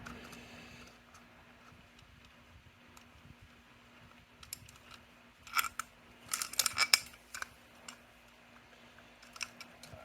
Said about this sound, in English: I have to cut the fuel line hose clamp off. I'll just use the wire cutters for that.